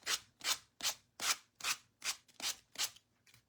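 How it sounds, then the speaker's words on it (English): Steady back-and-forth rasping strokes, about eight in a row at an even rhythm, close and clear, with short pauses between strokes. "if you just have a sanding block or a sanding sponge, that will work as well."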